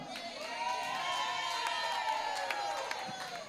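At a national drum festival final, an audience cheers and shouts, with some clapping, a fairly distant, moderate crowd roar that swells and then eases.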